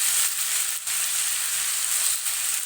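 Onion, garlic and green chili frying in a pan for sarso ka saag give off a loud, steady sizzle that stays close and unbroken, with only brief dips.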